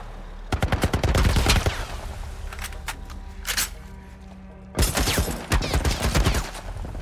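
Dense bursts of gunfire from a shootout in The Last of Us: rapid rattling volleys up front, a few scattered shots through the middle, then another heavy fusillade near the end, loud and close with no speech.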